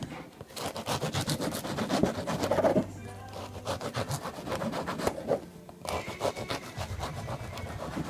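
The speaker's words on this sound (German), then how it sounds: "Fondue-Brot schneiden für 50 Personen, das gibt viel Arbeit." Knife sawing through bread being cut for fondue for fifty people, a rapid close rasping and scraping stroke after stroke, broken by two brief pauses.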